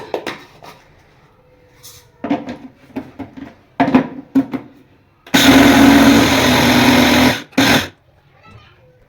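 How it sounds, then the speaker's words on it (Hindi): An electric kitchen grinder whirs through ingredients for sweet tikiyaan, with a few short pulses and handling knocks, then one loud, steady burst of about two seconds before it stops. "से इसको आप ग्राइंड कर लें।"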